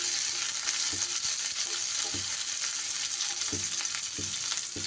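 Finely chopped capsicum sizzles in hot oil in a pan, a steady loud frying hiss with soft stirring knocks, no voices.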